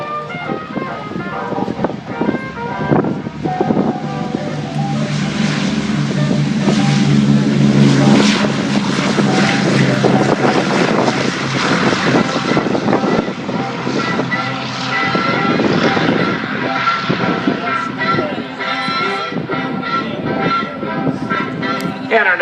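Radial piston engines of the B-17 Flying Fortress 'Yankee Lady' roar steadily at an outdoor air show, a loud broad drone building and holding throughout, with some crowd or announcer voices underneath.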